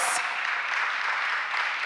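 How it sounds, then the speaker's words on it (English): Applause from an audience at a school speak-off competition and awards ceremony, a dense, steady wash of many hands clapping that holds at an even level throughout. "Let's give Dr. Denny another round of applause."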